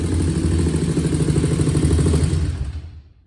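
A 2001 Honda TRX400 ATV engine idles close by with a steady, even chugging throb that runs unbroken, then cuts off and fades out at the end.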